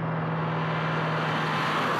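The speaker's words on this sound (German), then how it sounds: "Der V8 Biturbo beschleunigt den gedopten A6" Audi RS6 Avant with a 4-litre, 560 hp V8 biturbo pulls hard under acceleration, a loud, steady engine roar holding a strong low drone throughout with no talk.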